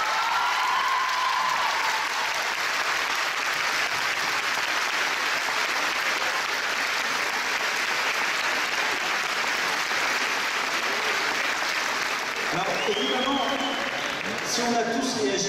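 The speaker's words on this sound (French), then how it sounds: "il faut les applaudir, vraiment les applaudir." A crowd applauds warmly at a public event in Vichy, steady dense clapping for many seconds before it thins near the end as voices and chatter come through.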